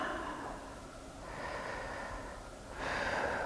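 Slow, audible breaths during a yoga stretch: an inhale, a short pause, then a longer, louder breath, close and quiet with no talking.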